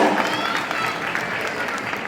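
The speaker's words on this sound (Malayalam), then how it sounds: "നിറഞ്ഞ കൈയടി നൽകി" Audience applause at a film press meet as a guest is welcomed on stage, a continuous burst of dense clapping from a crowd, with some speech in the room.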